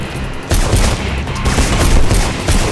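Rapid gunfire in Mirror's Edge crackles in a loud, continuous stream of close shots, starting abruptly and holding dense and steady to the end.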